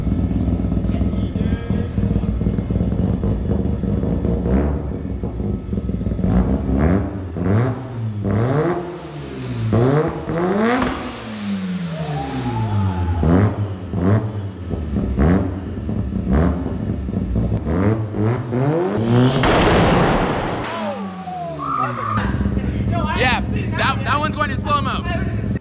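A modified Mazda RX7 with a rotary engine revs hard again and again while its exhaust spits flames, loud and close, with excited voices talking over the rising and falling engine.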